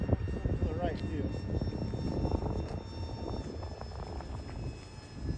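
A UMX F-86 RC model jet flies at half throttle, producing a steady whining engine drone that rises and falls slightly as it passes, with a voice talking over it.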